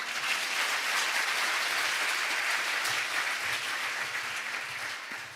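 A large audience at the Seoul ODA International Conference gives a sustained round of applause after a speech, loud and steady throughout, fading slightly near the end.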